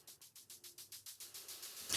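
A hi-hat riser run through a vocoder with automated release, heard alone as a rapid series of about ten bright, hissy pulses that swell in rhythm and build toward a louder burst at the end.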